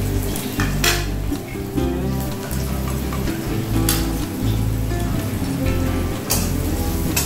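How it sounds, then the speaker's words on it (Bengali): Chopped onions fry in oil for crispy fried onions, sizzling steadily as a metal utensil clanks and scrapes against the pan in repeated close, loud strokes. "এবার এটাকে আমি ভাজবো। ওই তেলেই পেঁয়াজগুলো আমি দিয়ে দিচ্ছি।"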